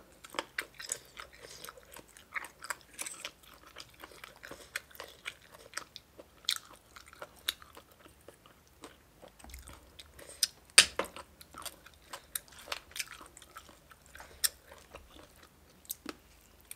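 Someone eating spicy papaya salad with rice-field snails, close wet chewing with sharp crunchy bites scattered irregularly throughout, quiet overall and with no talk.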